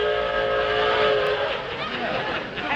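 A train whistle sounds in a comedy TV sketch: a held, tonal blast for about a second and a half, then fading into a rougher, breathy noise.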